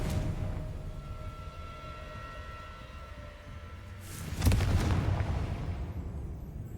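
Blasting-spell explosion from the video game Hogwarts Legacy: a sudden loud burst about two-thirds through, rising over a low rumbling game backdrop with faint tonal hum, then a sustained rumbling tail.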